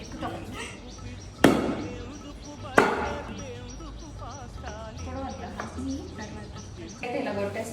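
Mustard seeds pounded for avakaya pickle in a Kenyan home kitchen, with two heavy, isolated thuds a little over a second apart amid background room noise and nearby talking.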